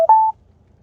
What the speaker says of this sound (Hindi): अब एक फोन आ रहा है, एक फोन ले लेते हैं किसी भगत भाई का।